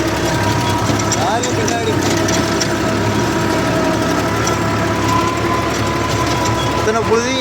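A vehicle engine pulls a five-tine plough through a dusty village field, a steady close rumble with mechanical clatter and rattling running throughout, while someone talks over it.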